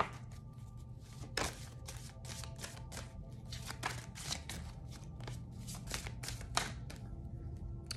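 A deck of tarot cards is shuffled close by, a rapid series of crisp riffling bursts repeating at an even pace over a quiet background hum, with no talking.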